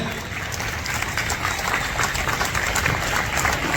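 Loud, dense applause from a large audience at a Christmas celebration in Yanam, steady sustained clapping filling the space with no voices standing out.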